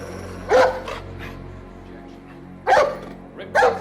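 A dog barks three times, in sharp single yaps spaced well apart, moderately close indoors at night in a quiet house, with a faint low hum between the barks.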